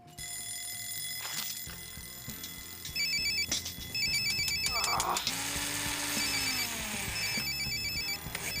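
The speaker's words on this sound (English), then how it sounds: "Why is Michael's alarm clock broken?" A bell-like alarm rings repeatedly in short electronic bursts under a busy background, with a few thumps and a brief voice mixed in.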